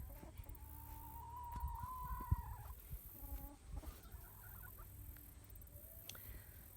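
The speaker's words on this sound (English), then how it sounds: "So I put the chickens in the garden to peck around." Backyard chickens loose in a homestead garden, giving a few clucking calls and a drawn-out rising note over steady low outdoor noise.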